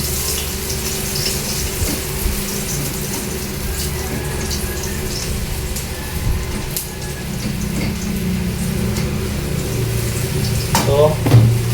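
Onions frying in a pan for pork chops, a steady loud sizzle with occasional scraping from stirring, close up, with a voice talking over it.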